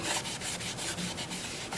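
Steady, close-up rubbing of sandpaper against a turned Gravenstein apple wood bowl, a continuous gritty scratch with regular back-and-forth strokes about every fifth of a second.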